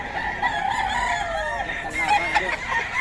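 A Boston White fighting rooster crows loud and close in one drawn-out call with a rising and falling pitch, and other fowl can be heard faintly behind it.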